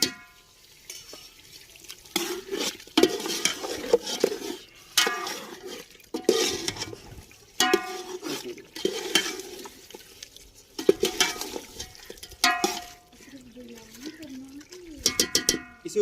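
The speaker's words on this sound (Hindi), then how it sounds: "थोड़ा सा पानी डालेंगे और मसालों को अच्छे तरीके से पका लेंगे।" Spices cooking with a little water in a pot for aloo chicken curry, stirred in repeated scraping strokes with soft sizzling between them, as someone talks over it.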